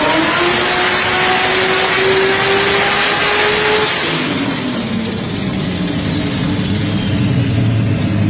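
A Barra six-cylinder drag car engine of about 1400 horsepower revs hard, a loud sustained roar whose pitch climbs and then drops off, heard without talk.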